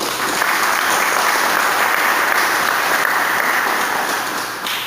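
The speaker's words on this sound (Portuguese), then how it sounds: "Eu convido você a aplaudir esta palavra de Deus." A church congregation applauds in a sustained, loud, even wash of clapping that fills the whole stretch without pause, close and enveloping, with no speech on top.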